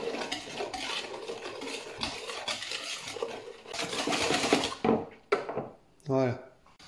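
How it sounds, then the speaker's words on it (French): Egg, egg yolk, sugar and flan powder being stirred together in a bowl for a strawberry fraisier cake, a close, continuous scraping and swishing that pauses near the end before a brief voice is heard. "j'ajoute un œuf entier et un jaune et je remue"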